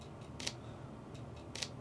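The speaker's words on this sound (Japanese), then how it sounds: "シャッターオンはね α7S でこんな音なんですけども、" Shutter clicks from a Sony α7S mirrorless camera at a Sony Store, two faint quick double-clicks about a second apart, close up over quiet background hiss.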